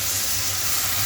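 Vegetables hiss and sizzle steadily in a hot pan as soy sauce goes in, a loud, continuous frying sound with no pauses.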